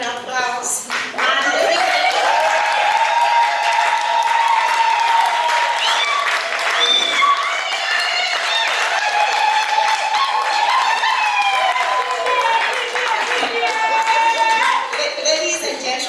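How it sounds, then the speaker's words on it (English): A crowd at a live African cuisine cooking event gives hearty applause, loud continuous clapping mixed with cheering voices that swells and holds for about fifteen seconds. "Please, they deserve a hearty African applause."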